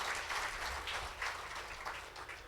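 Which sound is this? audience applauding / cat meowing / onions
audience applauding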